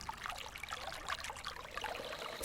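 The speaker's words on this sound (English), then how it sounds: "we have arrived at a forest stream." Water trickles and babbles in a forest stream, a soft, continuous splashing flow heard fairly close and quiet, with no voices.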